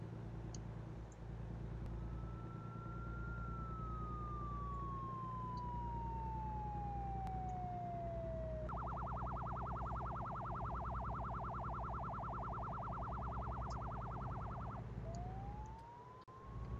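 An emergency vehicle siren in a trucking game with a winter mod sounds over a steady engine drone, first a long falling wail, then a rapid yelping warble, then rising again as it passes.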